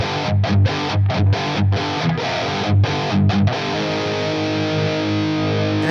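Electric guitar played through a Nano Cortex preset with only reverb, a series of short, loud strummed chords with brief gaps, then a final chord left ringing out into a reverb tail.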